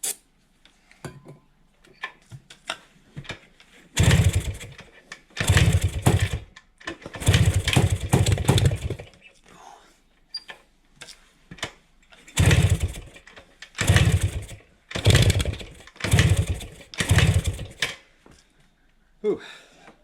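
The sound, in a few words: 1971 Kawasaki F7 motorcycle engine idling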